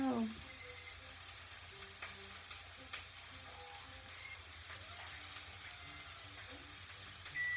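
Peppers frying in a pan during a one-pan chorizo hash, a soft steady sizzle with occasional clicks and stirring sounds, fairly quiet throughout.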